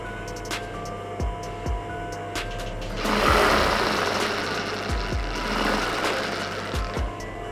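A sewing machine stitches a folded edge on a princess-cut blouse, joining the layers with a steady, close mechanical whir that grows busier midway, with a few light clicks and no talk.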